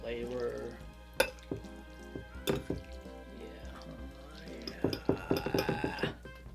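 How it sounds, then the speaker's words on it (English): Filipino sweet-style spaghetti being tossed and mixed with its sweet-and-sour sauce, giving close, soft wet stirring with repeated sharp clinks of a utensil against the pot that grow busier toward the end. "I'm just gonna mix them all together so I'll get like a even coating of sauce"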